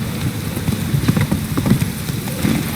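Rhythmic hoofbeats of a galloping horse in The Witcher 3 video game, a steady clip-clop pattern over a low rumbling game soundscape, moderately loud and continuous.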